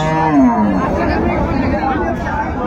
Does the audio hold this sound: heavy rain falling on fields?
no